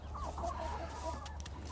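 Chickens on a small homestead rescue farm cluck softly and intermittently, faint and nearby over a low background hum, with no talking.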